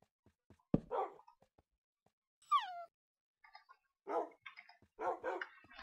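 Dogs in a hardcore Minecraft survival game bark in a few short, separate bursts, with a whining rising yelp in between, against otherwise quiet game ambience.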